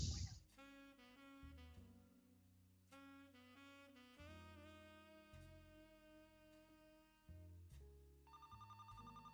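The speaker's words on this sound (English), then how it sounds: "Oh, we get a phone call." A telephone rings in a video game with a bright, repeating electronic trill that sits over a louder melodic music track, returning in short bursts near the end.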